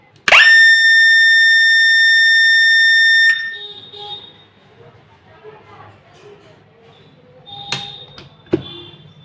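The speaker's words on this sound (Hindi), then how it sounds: "मेरा हुटर कुछ सेकंड के लिए चलेगा और उसके बाद ऑफ हो जाएगा" A power-indication hooter wired to a timer blares one loud, steady electronic tone for about three seconds after the MCB is switched on, then cuts off. Someone talks quietly afterward with faint clicks.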